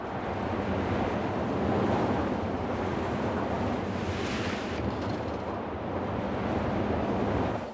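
A splash coaster in Planet Coaster 2 ploughs through water, making a loud, steady rush of spray and churning water that runs unbroken for several seconds, with a brief swell near the end.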